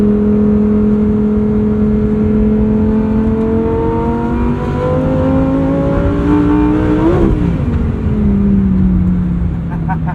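A red Lamborghini sports car accelerates hard, heard from inside the cabin. The engine tone climbs through a gear, dips at a shift, then rises again, loud and continuous with road roar underneath.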